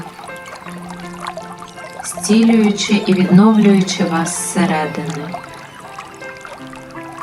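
Gentle flowing, trickling water runs steadily beneath a calm spoken voice in a guided meditation soundtrack about water, continuing softly before and after the talking.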